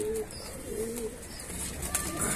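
Pigeons coo softly at close range, fulsare, kalpare and kaldume high-flyer breeds, giving a few low rolling coos over quiet background noise.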